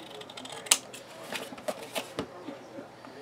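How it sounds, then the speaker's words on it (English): Scissors trim excess card stock from a handmade pop-up easel card in a series of close, crisp snips and papery rustles. "then I can cut the excess off."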